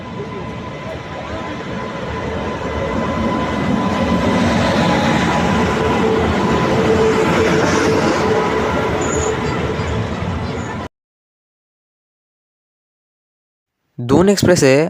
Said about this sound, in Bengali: বারাণসী থেকে আমার বর্ধমান যাওয়ার ট্রেন হচ্ছে one three zero one zero দুন এক্সপ্রেস